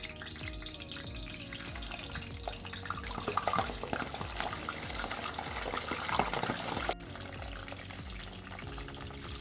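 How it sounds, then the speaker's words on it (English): Plantain slices frying in oil in a pan over medium heat, a continuous crackling sizzle with scattered pops and spits, fairly close and steady throughout. "Carefully add the plantains to the pan."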